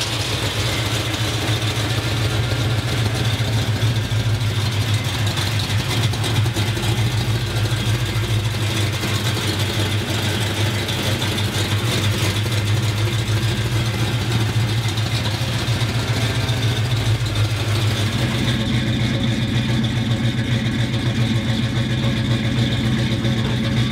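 The engine of a 1950 Chevrolet panel truck runs steadily with a loud, continuous low hum and drone, close up, with a slight change in tone toward the end.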